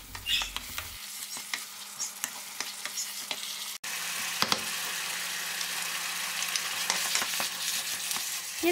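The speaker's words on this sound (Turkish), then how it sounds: "domates salçası ve biber salçası ekleyip kavurmaya devam ediyorum" Steady, close sizzling of tomato paste and pepper paste frying in a pan, with occasional stirring clicks and scrapes throughout.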